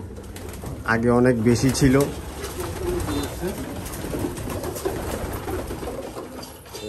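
Jan Aarden racing pigeons in a loft, soft cooing heard near and moderately loud early on, then quieter bird sounds and shuffling while people talk.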